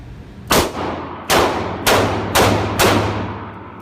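A handgun small enough to hide in a front pocket fires five loud, sharp shots on an outdoor gun range. The shots are evenly spaced about half a second to a second apart, and each leaves a short ringing decay.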